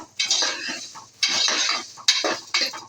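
A spatula stirs and scrapes horse gram and masala frying in a pan for a ridge gourd sour curry, in four separate bursts of scraping and clinking, close and alone.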